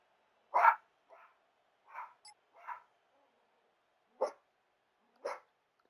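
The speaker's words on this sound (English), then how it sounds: "I know you can definitely hear the dog." A dog barks six times in separate bursts over about six seconds, one loud bark followed by softer irregular ones and two sharp later barks, each standing alone against near silence.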